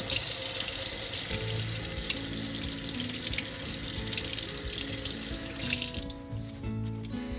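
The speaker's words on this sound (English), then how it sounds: "As I rinsed that, I realized I shouldn't have rinsed the whole thing, just the part I was going to use." Tap water runs steadily into a kitchen sink while an onion is rinsed under it for a salsa with roasted corn and tomato, a close, constant splashing hiss that thins out near the end.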